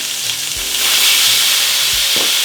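A burger sizzles in a pan as whisky is poured in and flambéed: loud, constant frying hiss, close up, that swells into a fuller roar after about half a second, with faint stirring knocks beneath.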